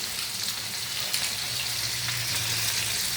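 Potatoes frying in hot oil in a pan, cooking for a Bengali hilsa (elish) fish curry, give a steady, dense sizzle with crackly high hiss and a low hum throughout, close and even.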